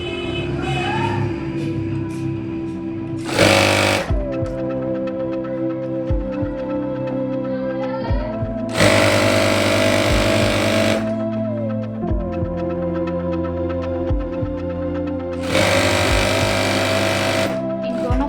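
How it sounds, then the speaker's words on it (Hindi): An electric sewing machine stitches capri fabric seams, bursts of loud, rapid, buzzing needle motor chatter separated by quieter pauses with a steady hum, close to the microphone. "इन दोनों को मैच करके इसकी स्टिचिंग की"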